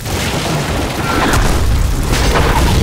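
Missile explosions in the video game Splinter Cell Blacklist make a loud, continuous booming rumble that fills the whole span without a break, heavy and close.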